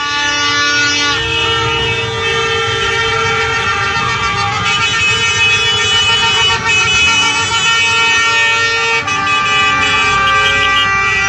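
Many horns blare at once from a motorized caravan of trucks loaded with people at a crowded regional gathering. The chorus of overlapping tones is sustained and loud, with no break, over a steady traffic din.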